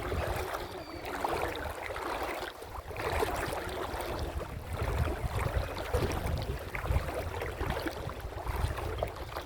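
Someone wades through the shallow bed of the Krishna River, the water making a steady close sloshing and splashing with a broad wind-like wash behind it and no voices.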